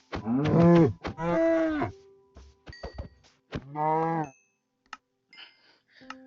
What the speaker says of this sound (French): il y a deux vaches